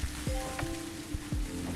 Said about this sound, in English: This is what they call light rain, by the way.